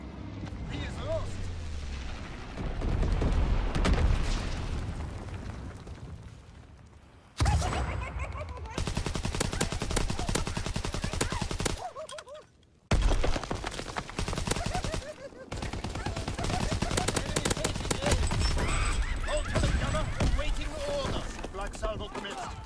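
Ball turret machine gun fire in the Call of Duty WW2 video game, dense continuous bursts with explosive booms layered over battle noise, cutting out briefly twice before resuming, loud and close throughout.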